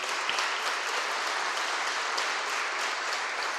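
Steady, dense applause from a seated crowd rising for the family of a fallen U.S. Army Ranger at a Monterey County memorial ceremony, continuous and even, heard from a little distance.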